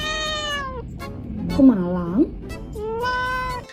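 A cat meows repeatedly nearby in drawn-out, rising and falling calls, with someone talking to it in between and over the meows.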